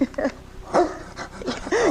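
Barking from a dog in a 1984 live radio drama, delivered as short yips and whimpering bow-wows in bursts spread across the clip. It may be a voice imitating a dog.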